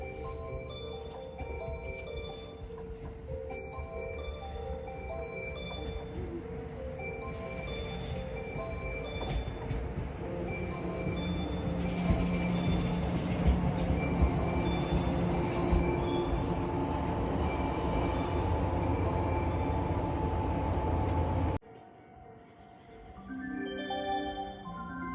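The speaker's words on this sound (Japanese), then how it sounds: "まもなく1番乗り場に加古川方面から列車が参ります。" A train pulls into a rural station, its wheels squealing with shrill sustained tones over rumbling rail noise that builds, then cuts off abruptly, followed by quieter clatter.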